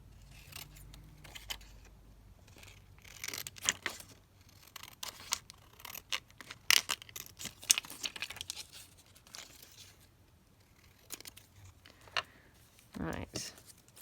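Scissors trimming paper book page tags at a craft table, giving intermittent close snips and crinkles amid paper handling and brief murmured speech.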